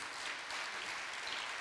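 Audience applause for the 2022 Prix Ginkgo literary prize winners at an awards ceremony, a steady wash of many hands clapping without a break through the whole short stretch.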